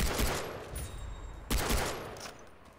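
Far Cry 3 gunfire: two sharp bursts of shots about a second and a half apart, close and punchy, with a fading rattle between them.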